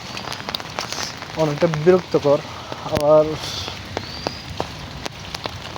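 Rain falls steadily with an even hiss, and a voice speaks briefly over it while a few soft knocks sound in the background.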